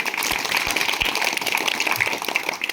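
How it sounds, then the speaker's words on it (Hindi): Crowd applause during a speech at a Buddhist-themed gathering: steady, dense clapping from many hands, fairly loud and continuous throughout, with no talking over it. "तालियां होनी चाहिए।"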